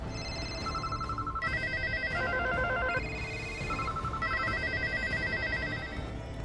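A telephone rings continuously with a steady electronic warbling tone in repeating bursts, moderately loud over a low background hum.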